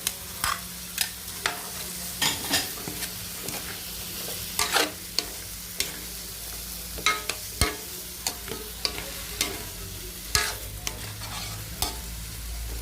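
Carrots and chayote for chopsuey sauté in a pan, a soft sizzle under frequent sharp clacks and scrapes of a spatula stirring at an irregular pace, close up and without talk.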